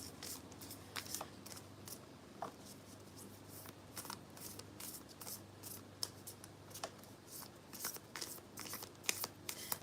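Playing cards from a deck being shuffled, with quick soft riffles and flicks close by, fairly quiet, and no talking.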